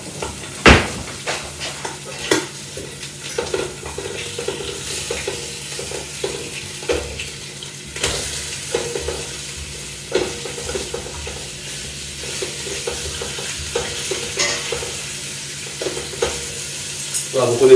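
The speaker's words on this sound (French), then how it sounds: "Alors le lapin, c'est juste histoire de lui donner une belle coloration." Rabbit pieces browning in a frying pan for a Normandy-style rabbit dish give a steady, close sizzle, with occasional utensil scrapes and light clatters from stirring throughout.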